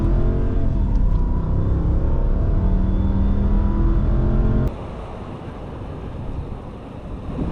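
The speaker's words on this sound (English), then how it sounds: "And let's give this Lexus some gas." 2007 Lexus LX470 SUV accelerating hard, a loud, close engine roar climbing through the revs, then a sudden drop to a quieter hum with road and wind noise as it shifts.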